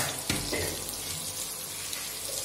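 Garlic and onion frying in oil for Indian dal fry give a steady, broadband sizzle throughout, with a brief clatter near the start, close and moderately loud with no talking.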